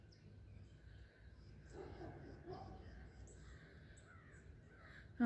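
A crow caws a few times from some distance outdoors, faint against quiet ambient hiss, with a louder sound at the very end.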